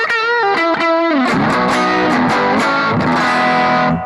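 Electric guitar run through a Boss GT1000 Tweed amp model with a compressor, playing a few sustained, evened-out notes and then a chord-driven passage with lightly distorted tone, loud and close with no talking.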